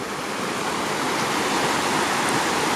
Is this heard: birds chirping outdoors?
no